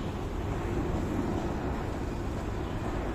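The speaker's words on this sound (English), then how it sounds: "The airplane is coming again." An airplane passes overhead near an airport, a steady broadband roar that stays loud and continuous throughout, with no voices.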